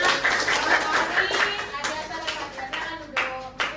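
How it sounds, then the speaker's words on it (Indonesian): Classroom students clap for a presenting group, a brief patter of hands mixed with voices talking over it, moderately close and fading in bursts. "kasih dulu tepuk tangan untuk kelompoknya"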